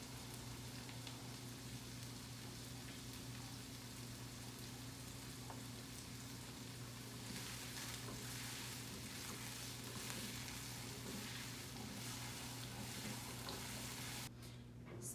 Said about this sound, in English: at this point you can see that our onion is very well brown, so we will take it out from the oil